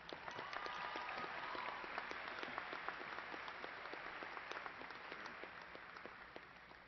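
An audience at Angelo State University's fall 2018 commencement gives graduates a sustained round of applause, dense even clapping from a large crowd heard at a slight distance, steady throughout and tapering a little at the end.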